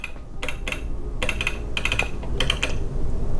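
Keys tapped on a lighting control console keyboard while labelling a fader for a rotating gobo effect, a run of quick clicks in uneven bursts, close and clear over a low steady hum.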